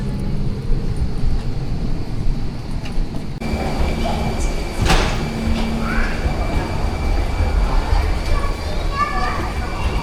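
Broad, steady rumble and roar inside a passenger airplane just after touching down, loud and continuous, with faint cabin sounds and voices mixed in.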